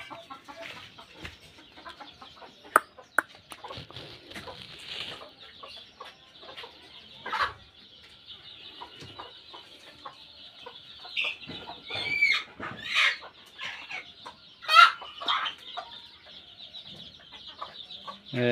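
Native village chickens cluck and call throughout, several birds near and far with bursts of louder squawking, with an occasional rooster-like crow in the mix.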